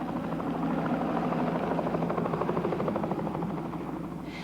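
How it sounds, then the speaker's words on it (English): A helicopter hovering over water while lifting a calf to safety, its rotor throbbing in a steady rapid beat, loud and close throughout with no voices. "The helicopter lifted the calf out of the water and brought him to safety."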